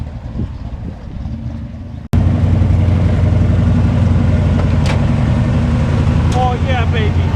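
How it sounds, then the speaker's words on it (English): A 1969 Chevrolet Chevelle engine fires up and holds a loud, rough, steady rumble close by after a quiet start, with people talking over it. "You gotta rev it more."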